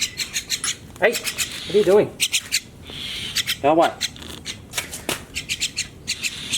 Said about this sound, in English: I don't have a pet bird. I don't know what this bird's doing.